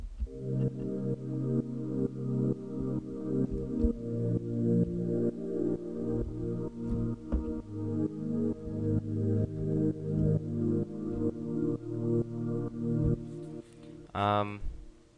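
Sustained sidechained synth pad chords from Sylenth1 in FL Studio pulse rhythmically, ducking and swelling in a steady pumping pattern throughout, with a brief bright flourish near the end.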